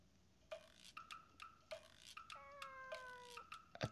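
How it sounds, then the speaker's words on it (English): Cat meowing in a visual novel game, several short mews and drawn-out cries repeating in an irregular rhythm, clear and close against a quiet background, with no talking. "Actually, yeah, was that a cat?"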